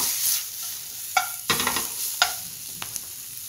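Food sautés in a pan with oil and black pepper: a low, even sizzle punctuated by several sharp scrapes and clacks of a utensil against the pan, close by and without speech.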